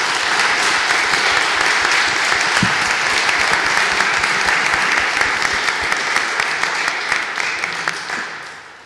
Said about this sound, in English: So a big round of applause to our finalists.